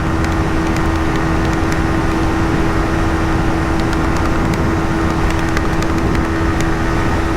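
A Yamaha XSR 155 motorcycle engine drones at high revs during a top speed run, a steady, loud, unbroken tone with rushing wind noise and no talking.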